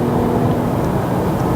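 Steady broadband road and wind rush inside a Volvo S60 T5 Inscription sedan with a 2-liter turbo petrol engine, wind noise at the A-pillar blending into a continuous low drone with no talk.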